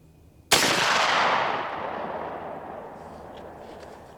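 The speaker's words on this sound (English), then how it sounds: "I'm going to go ahead and shoot at one of the bottom targets" A single 45-70 Government rifle shot with a cotton-packed load at an outdoor range, a sharp loud crack followed by a long rolling echo that fades over several seconds.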